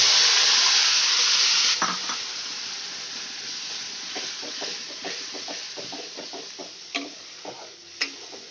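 Coriander paste sautés in a pan for katla fish kalia, opening with a loud, steady sizzling hiss that drops after about two seconds to a softer fry, broken by a run of light scraping and tapping stirs.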